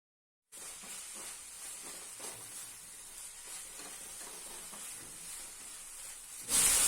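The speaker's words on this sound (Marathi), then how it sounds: "इथे या सर्व भाज्या सॉसेसमध्ये व्यवस्थित परतून घ्यायच्या आहेत." Vegetables sautéing in sauces with ginger-garlic paste in a pan, a soft continuous sizzle and hiss with faint stirring, ending in a brief louder burst.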